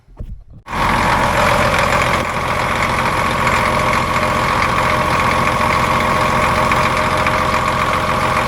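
Ex US Navy Cat D7F bulldozer diesel firing up after a brief quiet start, then settling into a loud, steady, close idle with a rough, knocking rumble and no talk.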